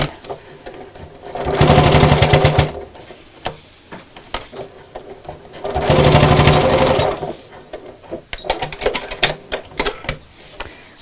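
Sewing machine stitching a quilted shopping bag runs in two loud, steady bursts of rapid needle chatter, separated by pauses filled with clicks and handling noise, with a voice speaking briefly nearby.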